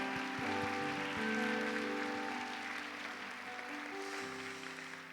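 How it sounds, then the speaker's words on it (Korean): Church congregation clapping to welcome newcomers during a Sunday service, a soft, diffuse patter of applause with sustained organ or keyboard chords ringing underneath. "우리 새가족들을 향해서 우리 힘차게 환영의 박수 보내드릴까요?"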